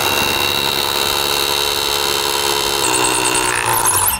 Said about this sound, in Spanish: Y en el centrito ponemos en percusión y hacemos un agujero.